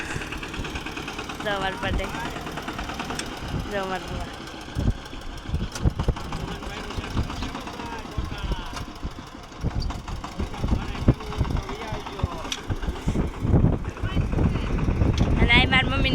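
A tractor engine runs on a farm plot in a groundnut field, a steady rumbling drone with knocking pulses under a voice talking, growing louder toward the end.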